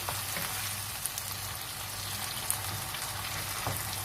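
A tomato paste mixture sizzles in a pan as it is stirred for a rice and minced meat gratin, a soft, steady frying hiss with a few faint clicks from the utensil.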